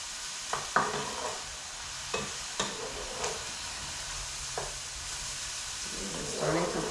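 Onions and garlic fry in olive oil for risotto, a steady close sizzle with occasional clacks and scrapes of a spoon stirring the pan.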